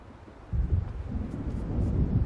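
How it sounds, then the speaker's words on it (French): Deep rolling thunder of an approaching storm in the video game Alan Wake Remastered, a low rumble that swells suddenly and keeps grumbling continuously with no voices over it. "On dirait qu'un orage approche."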